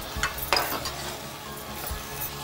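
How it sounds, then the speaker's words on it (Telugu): Already-fried capsicum goes into a pan for egg curry and is stirred while the oil sizzles, giving a steady close frying hiss with a few spoon scrapes and clacks. "క్యాప్సికమ్ ఆల్రెడీ ఫ్రై చేసి పెట్టుకున్న క్యాప్సికమ్ యాడ్ చేసేస్తున్నాం"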